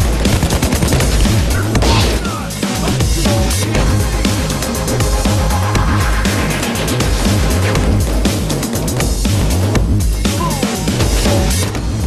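Heavy gunfire in a Payday 2 firefight, dense, loud overlapping bursts and rapid shots that continue without a break.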